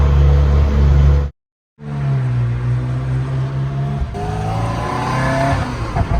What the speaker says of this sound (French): effet sonore, la voiture est prête à partir